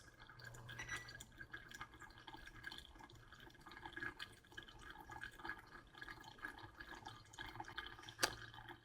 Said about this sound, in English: we're now just going to let it drip through completely